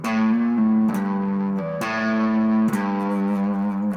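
A distorted electric guitar plays a slow blues phrase, long sustained notes bending and sliding between pitches.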